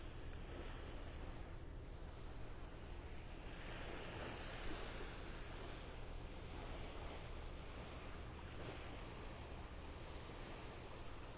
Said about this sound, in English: I'm on the beach by La Playa Beach Resort. Kind of in the middle of Vanderbilt Beach in North Naples, Florida.